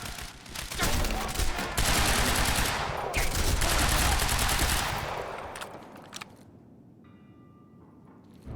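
Suppressing gunfire in the Quantum Break video game, loud sustained automatic bursts with heavy low thuds for about five seconds, then tapering off into quieter scattered sounds and near silence.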